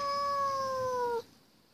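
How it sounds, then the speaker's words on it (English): A pet cat gives one drawn-out, clear meow, close and fairly loud, ending abruptly after about a second, followed by quiet room tone. "She's meowing."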